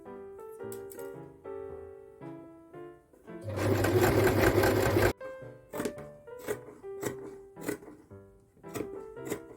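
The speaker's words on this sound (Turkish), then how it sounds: "dikiş çekeceğim." A sewing machine stitches fabric for a small cat-ear hat, running in short bursts with one longer steady whir in the middle, close and clear with pauses between runs.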